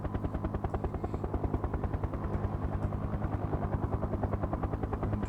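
A helicopter in the factory-building game Factorio thrums with a fast, steady rotor chop, loud and close throughout, with no talking over it.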